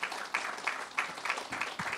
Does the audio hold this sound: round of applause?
yes